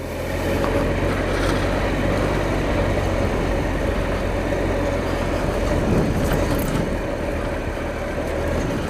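A Triumph Explorer XCa adventure motorcycle rides over moguls on a foothill trail, a steady, loud engine drone with wind rush and no break throughout.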